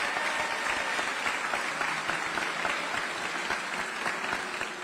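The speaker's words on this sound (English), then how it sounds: "I'd like to give him a huge round of applause" Audience applause at a city meeting, an even, dense wash of many hands clapping continuously at moderate distance, with little else heard.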